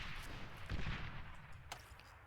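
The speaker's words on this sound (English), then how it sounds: "So the slow moving rocket's able to clean up those immovable turrets." Rockets fired at immovable turrets in the strategy game Beyond All Reason, heard as a few muffled launches and impact booms over a steady low rumble of battle, moderately loud.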